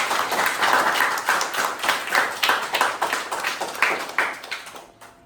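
A small group of people clapping hands at a Marathi village school (zilla parishad school) visit, a close, irregular run of claps that gradually thins out and stops.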